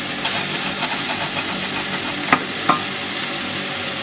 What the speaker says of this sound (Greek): Το ψήνω στο πάτο της κατσαρόλας μου